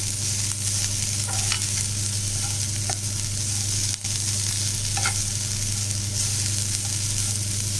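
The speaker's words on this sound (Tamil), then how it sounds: "இப்போ இதை நல்லா நம்ம கிளறி விட்டுக்கலாம் அதிகமாக வதங்க தேவையில்ல லைட்டாக வதங்கினா போதும்" Carrot, grated coconut, onion and coriander for ragi adai sauté in a pan with a constant close sizzle, broken by a few light scrapes and taps of a stirring spoon, and no one speaking.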